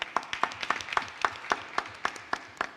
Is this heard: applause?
yes